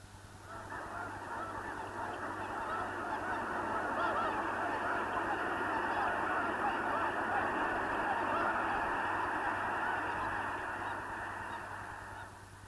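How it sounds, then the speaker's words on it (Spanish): A large flock of snow geese honking in California's Central Valley, a dense, continuous chorus of overlapping calls that swells to a loud, steady peak in the middle before easing slightly, with no talking over it. "Estos son gansos de las nieves."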